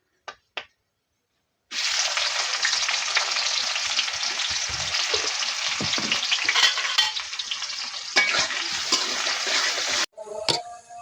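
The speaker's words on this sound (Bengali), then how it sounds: "লাল করে আগে ভেজে নেব" Whole garam masala, bay leaves and dried red chillies fry in hot oil with a loud, dense sizzle that runs for about eight seconds. A few taps come before it, and after it stops briefly there is more clatter.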